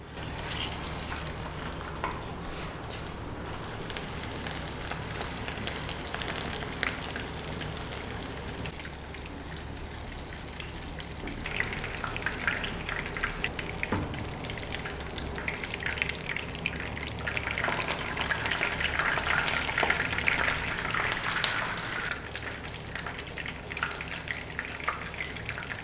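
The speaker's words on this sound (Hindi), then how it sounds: "अब मैं इसमें कबाब डाल दूँगी और डल को मैंने पहले अच्छी तरीके से गर्म कर लिया है" Chapli kababs fry in hot rendered fat ghee, giving a steady, close, crackling sizzle that holds throughout and grows slightly busier and brighter toward the end.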